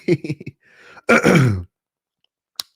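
Someone clears their throat with a rough, gravelly rasp, followed by a brief click and then silence.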